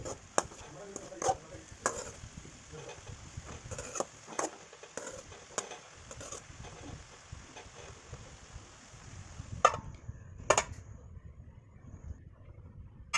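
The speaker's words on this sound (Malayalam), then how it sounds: "ഇനി അത് തീ ഒന്ന് കൂട്ടി വെച്ച് എല്ലാം അടി ചേർത്തൊന്ന് ഇളക്കി യോജിപ്പിച്ചെടുക്കുക" Carrot and beans thoran being stirred in a pan, with scattered scraping and clacking strokes of a spoon against the pan over a low steady background, fairly faint and close, with no talking.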